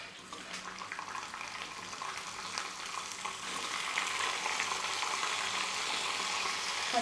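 Onions hit hot oil along with cumin and mustard seeds and fry with a steady, hissing sizzle that swells louder midway and stays constant, with no one speaking.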